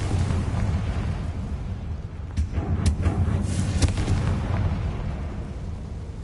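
Explosion from the Confringo fire spell in the video game Hogwarts Legacy: a loud, sustained rumbling blast with crackling bursts layered over dense background game noise, no speech.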